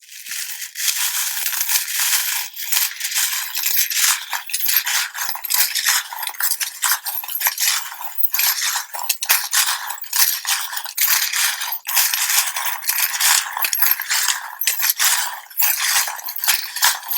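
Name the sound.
tarot charms rattling and clinking as they are cast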